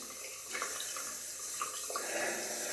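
Tap water runs steadily into a sink as a safety razor is rinsed after shaving, a soft continuous splashing with a few brief louder spatters, fairly quiet and with no talk.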